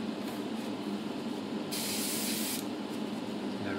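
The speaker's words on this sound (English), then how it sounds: "Turning on the spraying booth again, otherwise it's getting really misty here." A spray booth fan runs with a steady broadband hiss while sealant is sprayed onto metal plates, and a sharper, brighter burst of spraying sits in the middle.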